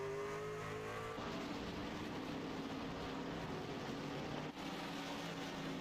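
Race car engines at the start of a sim racing league race on the Charlotte Roval, a steady loud drone of motors accelerating together, with a shift in pitch partway through.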